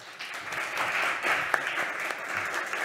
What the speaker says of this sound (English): A huge applause for our first startup for today,